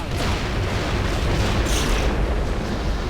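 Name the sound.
ship weapon fire at a switch in the video game Descent 3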